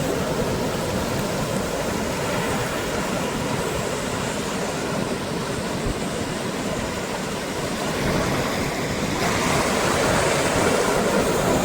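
Sea waves at Ganeshgule beach at sunset, a steady broad wash of surf rolling on without a break, moderately loud and uninterrupted by voices.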